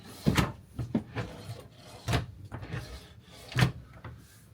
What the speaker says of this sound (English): All your drawers here, soft touch.